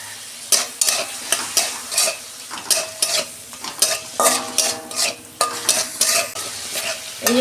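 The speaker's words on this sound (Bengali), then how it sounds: "তেল গরম হয়ে গেছে, মাছটা আমি ভেজে নিচ্ছি।" Prawns frying in hot oil in a karahi, loud crackling sizzle broken by frequent rhythmic stirring scrapes and clinks of a spatula against the pan, close up with no voices.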